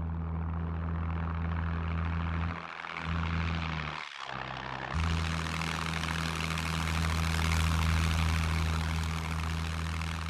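Propeller aircraft performing aerobatics above a bridge in Scum, a steady loud engine drone that dips briefly twice, then swells again as the plane passes close overhead.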